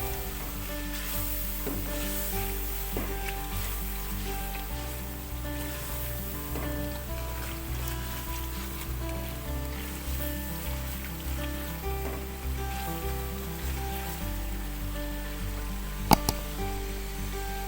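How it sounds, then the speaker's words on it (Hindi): Masala frying in a pan for aloo palak, a steady low sizzle and crackle of spices in hot oil that runs evenly throughout, with a brief clink near the end. "ये देखें माशाल्लाह मसाला हमारा काफ़ी अच्छी तरह से भुन चुका है"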